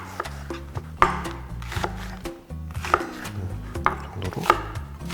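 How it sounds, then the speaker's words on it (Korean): A chef chops onion and other vegetables on a cutting board, sharp knife strikes landing in an irregular rhythm, close and fairly loud, over a low steady hum. "이제 채소를 한번 먹기 좋게 한번 썰어 보도록 하겠습니다"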